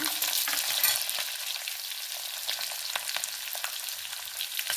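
Lentils and green chillies fry in hot oil as a tempering for chitranna, a loud close crackling sizzle with dense popping that runs steadily throughout, without any talking.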